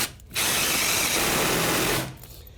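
Power drill driving a screw into lumber during house framing, a loud close motor whir that spins up, holds for about a second and a half, then winds down.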